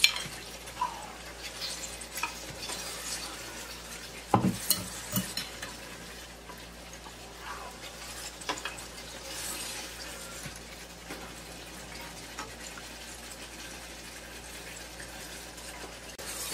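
Basmati rice being stirred in a pot for chicken vegetable dum biryani, with soft scraping and light clinks of a spoon against the pot over a quiet sizzle, a few sharper knocks standing out midway.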